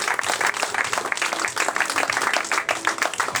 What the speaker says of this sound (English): would you all please give another big round of applause